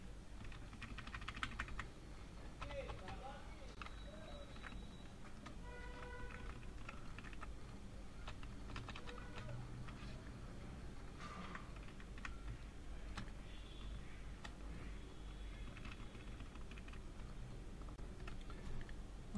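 Numbers being typed on a computer keyboard, a steady run of light clicking keystrokes over a constant low background hum, moderately close and unhurried.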